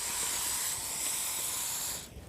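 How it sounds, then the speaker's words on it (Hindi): Strong hair spray sprayed from a can during hairstyling, a continuous loud close hiss lasting about two seconds before cutting off. "स्ट्रॉन्ग हेयर स्प्रे फिक्स करने के लिए"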